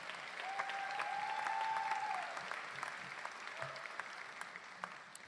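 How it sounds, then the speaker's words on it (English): An audience at a collegiate honor society ceremony gives a round of applause for guests, steady clapping heard fairly faintly and at a distance, with a brief tonal sound near the start. "Let's give these guests a huge round of applause for joining us here today."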